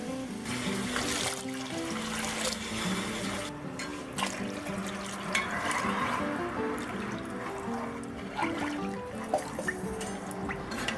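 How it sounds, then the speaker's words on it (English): Water pours into a pot of curried fish for a Trinidadian dish, a soft continuous splashing and trickling with light clinks, heard close but fairly quiet. "Now we're just gonna add a little bit of water."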